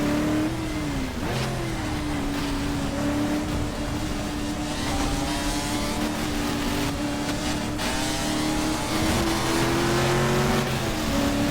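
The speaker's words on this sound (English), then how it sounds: "Mazda engine, the rotary engine. Did you hear the different" A Mazda race car with a rotary engine in the racing sim GTR2 at Daytona, a loud, steady high-pitched engine whine with shifting revs and gear changes, blended with other cars on track and no voices.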